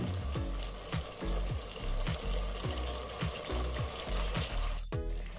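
Fish rezala sizzling and being stirred in a pan after whipped sour yogurt and salt go in, a steady frying hiss with regular scraping strokes and a sharp clink near the end.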